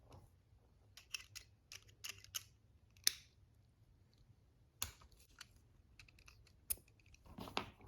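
Screws being backed out of the spur gear on a Traxxas X-Maxx RC truck, heard as small, close metallic clicks and scrapes in scattered bursts over a faint steady hum, with no one talking.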